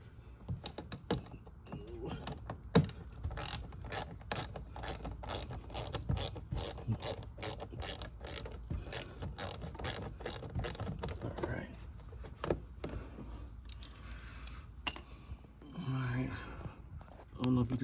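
Ratchet clicking as it loosens T15 Torx bolts on a Buick Grand National, a rapid run of sharp close clicks and mechanical rattles with a short break near the end.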